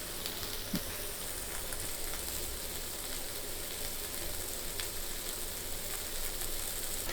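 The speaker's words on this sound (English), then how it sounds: "we want to get these onions to start turning clear" Onions softening in a pan with beef for gyudon, a quiet, even sizzle that continues unbroken, with faint crackles and a single small knock near the start.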